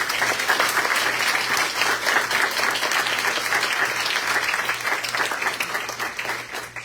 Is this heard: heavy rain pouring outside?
no